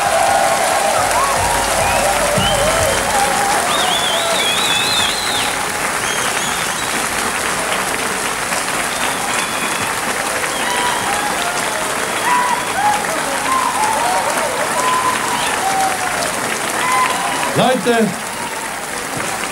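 Studio audience applauding at a 1991 TV folk music show in Kiel, a long steady roar of clapping from a large crowd with a voice speaking over it.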